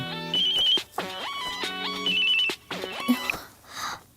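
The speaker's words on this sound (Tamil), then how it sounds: "ஒரு நிமிஷம் ஃபோன் வருது" A telephone ringtone repeats as an incoming call arrives in a Tamil comedy scene: a loud, melodic electronic ring in several bursts with short gaps, close and clear, with no one talking over it.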